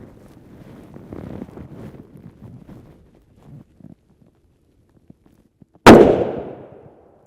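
A single sharp gunshot as a Speer Gold Dot round is fired into a rigid UHMWPE Level IIIA armor panel, loud and close, ringing out with a decaying tail after several seconds of quiet shuffling and handling noise.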